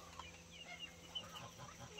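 Chickens on a farm, including Lavender Araucana, Black Araucana and Cheonggye birds, cluck softly in short scattered calls at moderate distance over a low steady background hum, with no talk.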